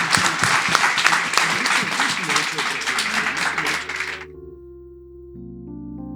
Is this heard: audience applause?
yes